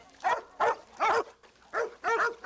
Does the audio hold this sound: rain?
no